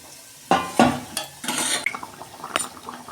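Fish curry cooked with mango is poured out of a pot in a few scraping, clattering bursts of metal on cookware, with liquid splashing in between, close and uneven.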